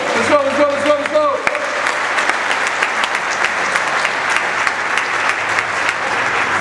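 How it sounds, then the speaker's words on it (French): Spectators at a youth minibasketball clinic clap for six players, a sustained, fairly loud burst of applause right after a voice, with crowd noise running through it. "je veux voir tout le monde applaudir les 6 joueurs"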